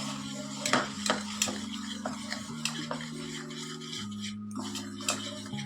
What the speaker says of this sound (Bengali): মিশিয়ে নেবো ভালোভাবে।